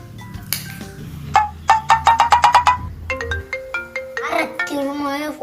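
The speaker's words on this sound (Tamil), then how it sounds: "அதுக்குள்ள போன் அடிச்சிட்டா" A mobile phone ringtone plays a bright, repeating melodic pattern of quick tones that rises and shifts, loud and near, with some talk at the start.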